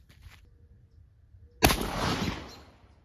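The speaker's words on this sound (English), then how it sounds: "So we'll run it through the gun here and see how it does." A 20 gauge shotgun fires a single one-ounce non-toxic steel load, one sharp loud blast with a rolling tail after a quiet lead-in.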